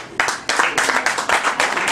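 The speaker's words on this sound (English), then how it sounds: "So I want y'all to start putting y'all hands together right now" An audience at a comedy show claps together in a steady, lively round of applause, close and loud, with bursts of clapping building in waves throughout.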